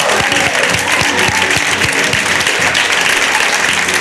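Loud, dense applause from a studio audience at a Greek TV variety show, continuous for a few seconds over a steady, thumping musical beat.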